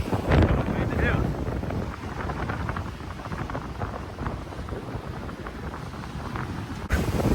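A sailboat cruising fast at about 8 knots off Thailand, with wind buffeting the microphone and water rushing steadily past the hull, loud and continuous.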